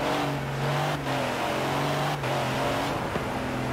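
A truck engine revving in Forza Horizon 4, a Ford Raptor off-road pickup, droning loudly and steadily with a sustained low engine tone and brief dips in pitch between revs, with no voices.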